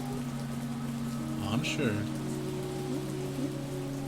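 A heavy rain downpour patters steadily on surfaces throughout, a dense, constant hiss while a person speaks briefly over it.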